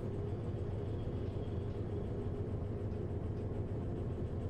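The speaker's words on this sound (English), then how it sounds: "Oh yeah, diesel engine, as you can see, because she's smoking. Well, you can hear it as well" A diesel locomotive in the Derail Valley train simulator idles and runs with a steady low rumbling drone and faint mechanical chatter, even and continuous throughout, no voices.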